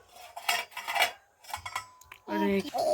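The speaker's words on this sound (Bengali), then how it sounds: "এই যে ছুরিটা দিয়ে কাটি" Knife clinking and scraping against a plate while cutting a cooked dragon fruit dish made with beet, spinach and fermented rice, several close metallic taps and scrapes with a ringing note near the end.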